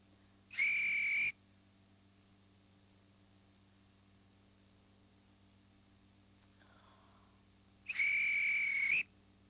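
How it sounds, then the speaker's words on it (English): A whistle blown twice, two shrill, steady blasts several seconds apart, loud and close, with quiet background hiss between them. "Oh, blown my whistle twice."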